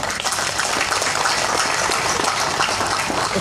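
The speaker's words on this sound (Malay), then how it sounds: "Tepukan untuk beliau" A crowd at a Pakatan Harapan political rally in Malaysia applauds a named politician, dense continuous clapping that stays loud and even for several seconds.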